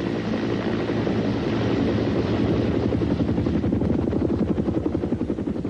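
A Sikorsky H-19 utility helicopter runs continuously with a loud, dense rotor thump and engine roar, the blade beat growing more distinct toward the end, with no voices.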